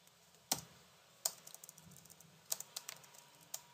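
Computer keyboard typing during a Python coding lesson, sparse clicks arriving in short bursts, close and fairly quiet over a low background hum.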